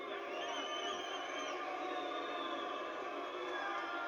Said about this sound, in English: with the booing.